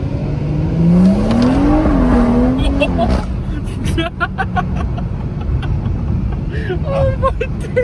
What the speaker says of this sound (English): I've been looking forward to that, the downshift to the bangs